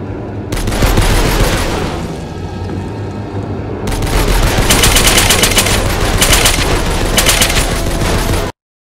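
Gunfire in the video game Lost Memories: Ghosts of the Past, loud and close, with dense bursts of rapid shots that pause briefly and then resume for several seconds before cutting off abruptly.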